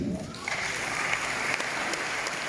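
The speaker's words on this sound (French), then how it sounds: "Je vous demande de les applaudir." An audience applauds commissioners from Guadeloupe and French Guiana at an international gathering, a dense, steady wash of clapping that holds evenly for the whole stretch.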